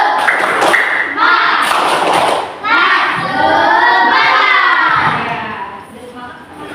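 A class of children claps in rhythm and chants together, loud and close, with sharp clap strikes at the start and then massed young voices calling out in unison.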